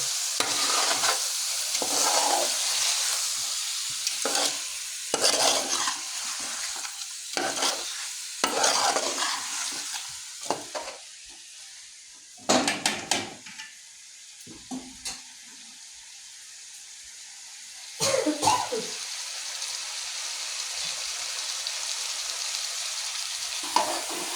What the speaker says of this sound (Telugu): ముక్కలను మంచిగా కలపాలి